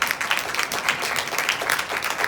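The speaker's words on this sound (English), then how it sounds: "Please give our lovely panelists another round of applause." Listeners at a retail industry panel give the panelists a brief round of applause, a steady, moderately loud clatter of many hands clapping for a couple of seconds.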